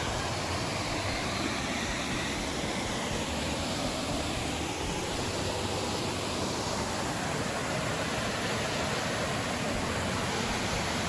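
Sarah's Creek Falls, a waterfall on Sarah's Creek Road near Clayton, Georgia, gives a constant broadband rushing roar that stays even and unbroken throughout, with no voices.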